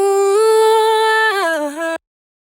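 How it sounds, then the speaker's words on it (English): A reversed vocal chop sample made in FL Studio for a modern Afrobeat track: one sustained, harmonically rich sung tone that bends downward near the end, then cuts off abruptly, heard alone. "I actually had to reverse it"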